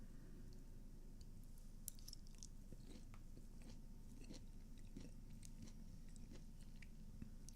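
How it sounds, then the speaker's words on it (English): Someone eating something crunchy close to the microphone, with repeated soft bites and chewing crunches scattered over a steady low background hum. "you're not supposed to hear what I'm eating"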